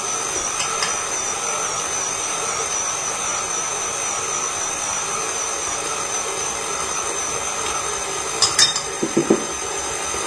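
A stand mixer with a dough hook kneads pita bread dough in a steady, continuous motor whir, with a few brief clanks near the end.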